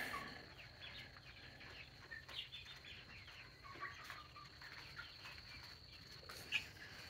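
Chickens cluck faintly around a water container on a farm, with scattered soft calls and wing flaps against a quiet outdoor background.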